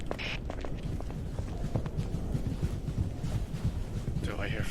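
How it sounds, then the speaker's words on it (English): Heavy footsteps in a horror exorcism video game, a steady run of dull thudding steps that continues throughout, with a faint whoosh at the start and end. "Do I hear heavy footsteps?"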